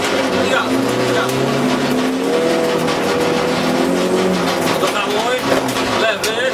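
A rally car at the 12th Rajd Brodnicki revs hard and accelerates, its engine note climbing and falling loudly and continuously while a co-driver calls pace notes over it from inside the car.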